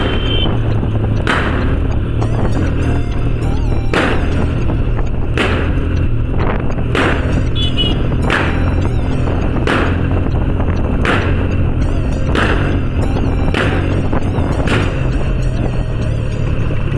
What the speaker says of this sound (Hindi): भाई क्या बैक फायर मार रही है भाई ये। भाई बहुत तगड़े पटाखे मार रही है भाई।